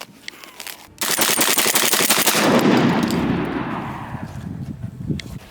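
A Benelli M4 (M1014) semi-automatic combat shotgun fires a rapid string of loud, close shots. The blasts merge into a sustained roar that echoes and slowly fades, with a few scattered later reports.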